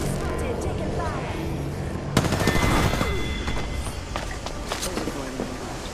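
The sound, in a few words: gunfire in Apex Legends video game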